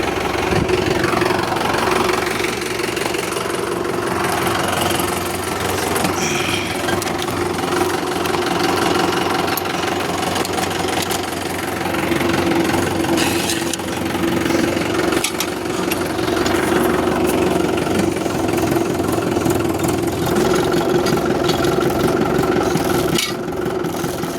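A farm tractor's engine runs steadily at idle with a rough, knocking mid-low drone and vibration, loud and close for the whole stretch, with no talk over it.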